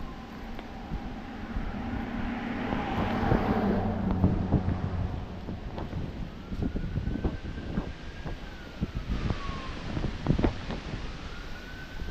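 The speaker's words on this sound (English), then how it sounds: "A lot of wind." Gusty autumn wind blows through a woodland on a walk, a steady broad roar that swells and eases, with rustling and buffeting against the microphone and a faint siren-like tone drifting in the distance.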